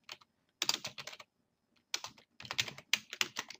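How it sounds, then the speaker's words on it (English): Typing category names into an Excel wedding budget spreadsheet on a computer keyboard: quick clustered bursts of soft, close key clicks broken by short pauses, quiet and with no talking. "So you just enter your categories directly by typing them in."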